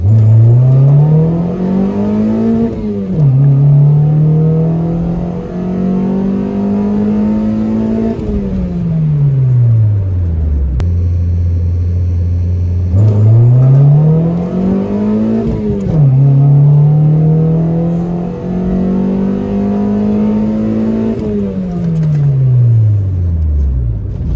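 A Honda Civic with a swapped transmission accelerates hard in second gear toward 60 mph. The engine note climbs loud and steady, drops briefly at a shift, then revs up again with no talk over it.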